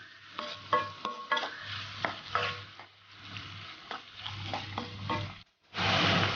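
Onions and garlic sauté in a pan with salt, a close, steady sizzle broken by frequent scraping stirs, then a brief pause and a louder burst of frying at the end.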